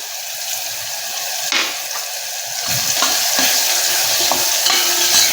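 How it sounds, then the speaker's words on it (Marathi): Ridge gourd pieces sauté in a pan with a pinch of fenugreek powder, a steady close sizzle with scraping stirs and a spoon knocking now and then; no one speaks. "दोडक्याच्या पोळी छान परतून घ्यायचे"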